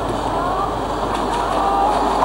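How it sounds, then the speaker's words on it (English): A train in China pulls into a rural station in Chengdu, a steady broadband rumble and rolling rail noise holding level throughout, fairly close and continuous, with no clear voices. "And here comes the train."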